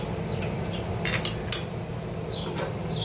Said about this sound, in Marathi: त्याच पॅनमध्ये मी सुकं खोबरं टाकणार आहे भाजायला